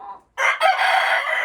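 A rooster crows loudly and close in a long sustained call after a short cluck and a brief pause, with chickens clucking around it and no talking.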